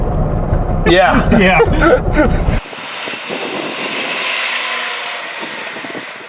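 A Trabant car engine runs loudly while driving, with smoke trailing behind; voices talk over the first couple of seconds, then a steady, close broadband roar carries on alone.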